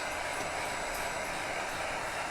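A hair dryer blows on freshly painted thrift furniture, a steady, even rushing hum that holds without a break from start to finish.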